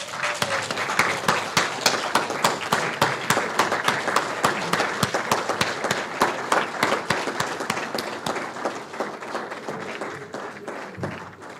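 A crowd at a public symposium on investment migration gives a sustained, lively round of applause for an official sponsor, dense clapping held steady for about ten seconds and then tapering off.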